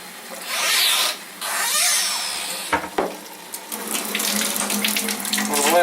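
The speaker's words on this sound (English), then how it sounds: "so now what we'll do is we'll run some water through." Water streams steadily from a tap through a Kangen K8 water ionizer into a basin, with a pause and a couple of clunks midway before the flow resumes, gurgling and splashing.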